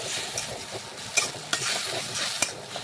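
Spices sizzle quietly in hot oil while a spoon stirs them, with a few sharp scrapes against the pan standing out over a steady frying hiss. It is close and fairly soft, and nobody speaks.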